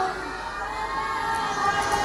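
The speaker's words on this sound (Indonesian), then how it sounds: "Ayo kita teriak minta tolong dulu ya." Children at a fire drill in Medan shout for help together in a loud, steady crowd of voices, with the shouting continuous and dense throughout.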